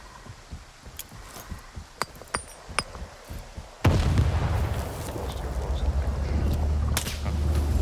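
A grenade bursts in the Northern Yantar area in Stalker 2, a loud blast whose rumble lingers. Scattered clicks and taps come before it, and the noise stays heavy afterward.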